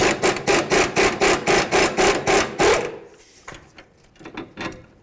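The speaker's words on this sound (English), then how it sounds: "Next, we're going to remove our sway bar link." Ratcheting or wrenching on a sway bar link of a 2006–10 Dodge Charger: about a dozen rapid, even rasping strokes close up, then scattered lighter metallic clicks and handling noises.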